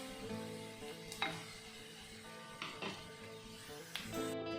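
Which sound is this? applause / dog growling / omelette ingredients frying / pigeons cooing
omelette ingredients frying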